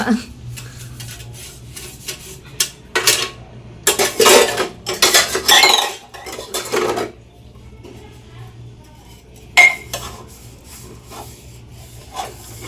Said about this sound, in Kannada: ನನ್ನ ಮಗ ನನಗೆ ಹೆಲ್ಪ್ ಮಾಡ್ತೀನಿ ಅಂತ ಪಾತ್ರೆ ಬೆಳಿಗ್ಗೆ ಕೊಡ್ತಿದ್ದಾನೆ